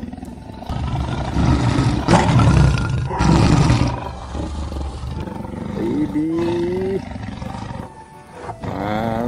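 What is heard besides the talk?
lion roaring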